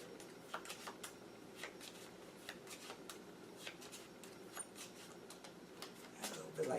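A deck of playing cards being shuffled during a magic lecture, a steady run of soft riffling and flicking clicks at low level, faint and continuous throughout.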